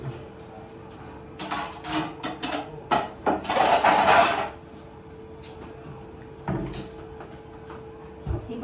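Steel vessels and pans clink and clatter in short bursts in a home kitchen as they are stacked and put away, with a louder flurry midway and quieter knocks after.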